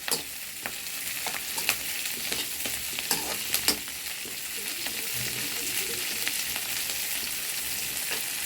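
Pirandai (adamant creeper) sautéing in a pan for an old-style chutney, a steady broadband sizzle with scattered sharp scrapes and clinks of a stirring spoon, close and continuous with no talk.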